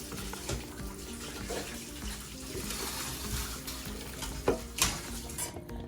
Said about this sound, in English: Rather, I'm adding water to it again.